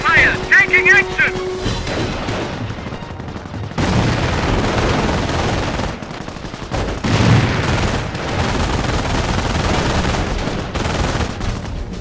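Battle gunfire in Company of Heroes at Oosterbeek, with continuous dense volleys, booms and rattling shots, and a brief burst of game voice chatter at the start.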